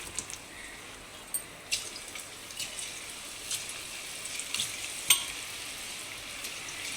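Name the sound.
cauliflower pakoda frying in hot oil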